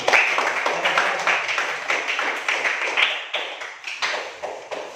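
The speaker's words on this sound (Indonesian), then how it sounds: "Mari kita berikan tepuk tangan kepada kelompok satu." Classroom applause for a student group, a steady run of many hands clapping with dense, overlapping claps that keep going for several seconds at moderate loudness.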